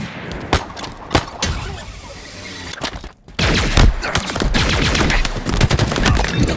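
Halo video game gunfire comes in sharp bursts and rapid automatic volleys, loud and close, with game effects and a brief voice mixed in.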